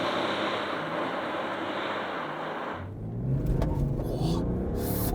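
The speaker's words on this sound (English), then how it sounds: "And then we'll pound the throttle all the way up to 120 k's an hour to see what that feels like." A 2023 BMW X3 launches at full throttle from inside the cabin, a broad steady roar with road and wind rumble building, then the engine note deepens and rises after a few seconds as it pulls hard.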